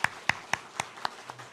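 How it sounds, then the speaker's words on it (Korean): Encouraging applause in a church congregation, a short sparse run of about six distinct claps at a steady rhythm, fading and fairly quiet. "큰 역할 할 수 있도록 다시 격려 박수하겠습니다."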